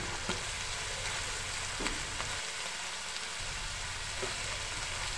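Small jatka fish fry in a pan over lowered heat with turmeric, chili, coriander powder and salt, giving a steady quiet sizzle with a few faint clinks of stirring and no talk.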